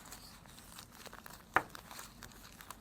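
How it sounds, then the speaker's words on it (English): Oil paper wrapping around a fuel injector valve assembly being handled and opened: faint, scattered rustles and soft crinkles, with one sharper crackle near the middle, quiet and close. "We pack it with the oil paper."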